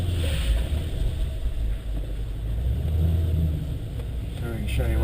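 A supercharged VF SS ute rumbles along the road with a steady, close engine drone and faint rising revs, as a voice speaks briefly over the engine.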